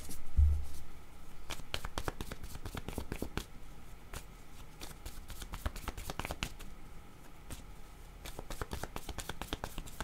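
Word cards are shuffled by hand in quick bursts of crisp riffling and flicking close to the listener, in a fairly steady rhythm with brief pauses.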